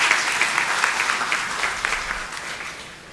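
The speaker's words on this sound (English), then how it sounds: "Give a round of applause to yourself that you are part of this system now." Dense audience applause at a university orientation programme, a steady wash of many hands clapping that tapers slightly toward the end.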